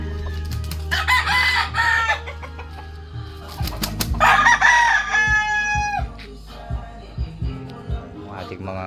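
Hens cluck in short bursts while a rooster lets out two strong crows, close and loud, with scattered farmyard knocks and some clatter between calls.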